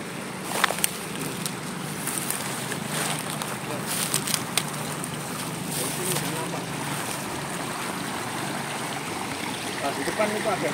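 Water in an ancient river high on a mountain rushes in a steady broadband wash, with wind and scattered splashes and knocks on top, and voices faint in the background.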